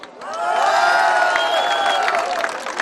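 A crowd greets a Swiss deputy with loud applause mixed with cheering and high whoops, swelling quickly and holding strong for nearly three seconds.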